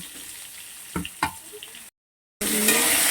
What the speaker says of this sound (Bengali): আলুগুলোকে আমি লাল লাল করে ভেজে নেব